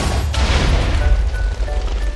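A cannon shockwave blast in a Minecraft Jujutsu Kaisen mod battle: a loud, deep boom with a rumbling low-end tail and crackling burst that fills the whole two seconds, with no voices.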